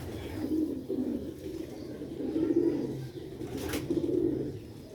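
Pigeons, black-faced Sialkoti Sheikh birds, coo in low, rolling, repeated calls, close and steady over a constant background murmur, with one brief sharp noise midway.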